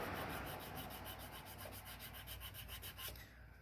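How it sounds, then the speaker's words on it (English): Sandpaper rubs rhythmically back and forth across knife handle scales during kit assembly, a close, steady series of raspy abrasive strokes that fades out at the end. "Once you have used the file to an acceptable level, switch to sandpaper."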